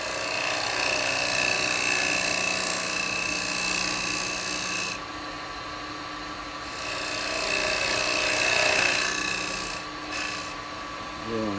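Wet wood spinning on a lathe as a chisel cuts a tenon for a turned cowboy hat, a steady raspy scraping with a whirring hum that eases off in the middle and then returns, close and continuous.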